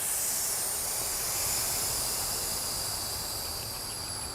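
Air rushes steadily out of a motorcycle tire valve stem with its core removed, a constant, loud, high hiss that fades slightly toward the end.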